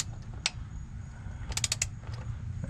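A ratchet on an extension tightening an oil cooler bolt on a 2004 Infiniti G35X with a VQ35DE engine: one click, then a quick run of four or five close ratchet clicks over a low mechanical hum.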